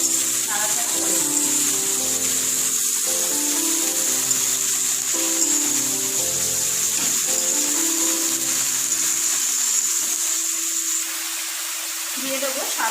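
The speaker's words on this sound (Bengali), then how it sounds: "এবার শাপলাগুলো এর মধ্যে দিয়ে দেবো। ভালো করে শাপলাগুলো নাড়াচাড়া করে নেব।" Water lily stalks sizzle and hiss steadily as they fry in a pan and are stirred, a continuous close crackle with occasional clinks from the stirring, under a voice talking.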